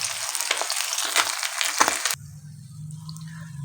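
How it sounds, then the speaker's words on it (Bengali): Pieces of pabda fish frying in oil, giving a dense, close sizzling hiss with crackling spikes for about two seconds before it cuts off abruptly to a low, quiet hum. "মাছগুলো হালকা একটু লাল লাল করে ভেজে নেব।"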